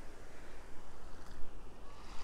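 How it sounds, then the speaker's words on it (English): Sea waves break and wash up a beach in East Sussex on a hot day, a broad, hissing rush that swells and ebbs in soft pulses, steady and moderately loud, with no voices. "that is lovely sound of waves crashing up the beach"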